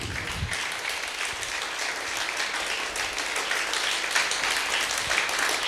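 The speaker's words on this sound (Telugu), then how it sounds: "మనము చప్పట్లు కొట్టి" A church audience applauding steadily throughout, dense overlapping claps at moderate volume with no one talking over it.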